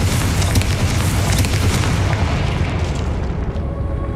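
A Confringo spell detonates in a video game, a big booming explosion with a long rumbling decay that fades over about four seconds, loud and close with no talking over it.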